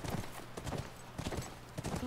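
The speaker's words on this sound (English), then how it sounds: "And a horse! It fits Joel very well." Horse hooves clip-clop in a steady walking rhythm in The Last of Us, a soft whinny-like tone faintly audible, the steps fairly close and moderately loud over a low background hum.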